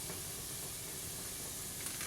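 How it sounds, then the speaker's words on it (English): Chicken pieces sizzling in an oiled pan while herb chicken and potatoes cook, giving a steady, moderately loud hiss of frying with no pauses. "It should start to sizzle."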